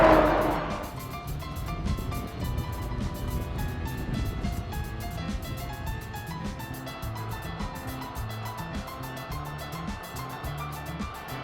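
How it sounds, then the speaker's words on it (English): Big trucks passing on a road beside a river, a steady loud rumble of heavy engines and tyres that swells at the start, then holds as a continuous roar of traffic. "Some big trucks."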